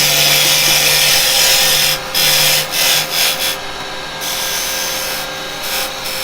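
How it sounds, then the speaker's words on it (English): A square carbide tool cuts tenons on wood spinning on a woodturning lathe, for a wig stand. A loud, steady whirring scrape is broken by several short gaps and bursts as the tool touches and lifts from the wood. "the reason I'm doing it with the square carbide because I want that dead square shoulder there and there"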